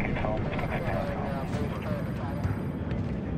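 An airplane in flight in Splinter Cell: Blacklist gives a steady, loud engine drone and rumbling cabin roar, with a few faint clicks over the sustained noise.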